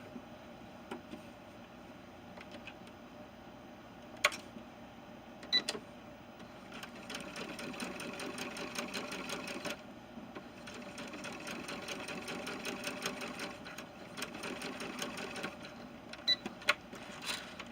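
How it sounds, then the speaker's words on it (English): Sewing machine stitching across the top of shirt sleeves, running in several steady bursts of rapid mechanical chatter separated by short pauses, with occasional clicks, close and fairly loud. "I'm going to stitch all the way across the top of both sleeves"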